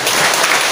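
Audience applause at a married couples' seminar, a dense, steady wash of clapping filling the short moment at close range and fairly loud.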